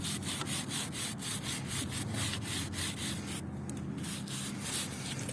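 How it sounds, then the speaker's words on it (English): Stiff brush scrubbing grime off a CSC RX3 motorcycle, steady back-and-forth rubbing strokes repeating in a quick even rhythm, close and continuous throughout. "take my little brush and I rub it in real good. Get all that grime off of there."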